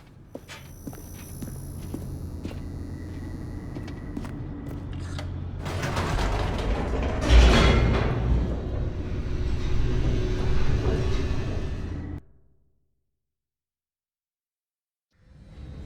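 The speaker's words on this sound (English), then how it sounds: "The elevator raced downward," An elevator in The Stanley Parable descends with a low mechanical rumble that swells and grinds louder midway, then cuts off abruptly into silence, with a faint click at the very end.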